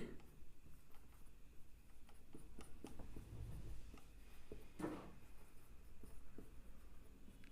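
Pen scratching across paper while an answer is written out during a class 6 maths lesson, a faint, steady run of short strokes and taps with no talking over it.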